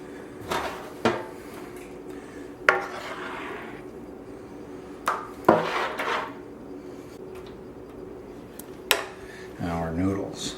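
A lasagna pan is handled while layers are assembled, giving scattered metallic clanks and knocks several seconds apart, followed by a short scraping rattle at the end.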